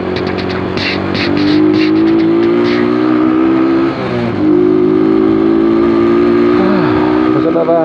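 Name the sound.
car driving past on a road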